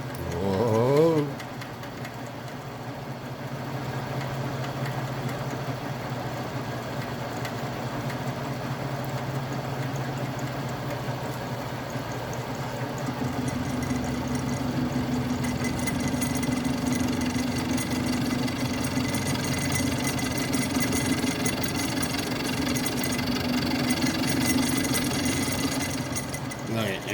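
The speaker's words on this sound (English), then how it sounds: "That little rattling is going to drive me nuts." A metal lathe runs steadily while cutting a part for a steady rest, giving a continuous mechanical whir with a faint rattle that shifts slightly in pitch partway through.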